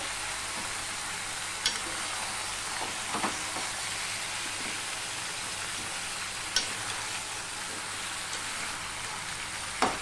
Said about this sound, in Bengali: আমি আবারও একটু নেড়ে চেড়ে নেব